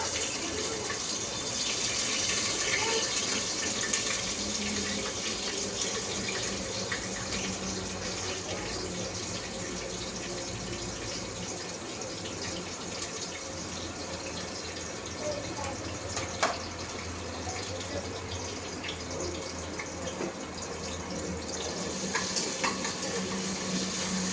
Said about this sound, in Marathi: कांदा परतला 2 मिनटं.